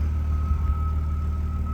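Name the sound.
BMW Z3 2.8 six-cylinder engine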